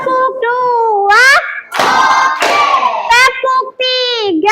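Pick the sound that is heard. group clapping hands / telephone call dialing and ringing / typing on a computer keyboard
group clapping hands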